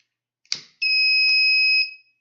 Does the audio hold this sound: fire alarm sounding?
yes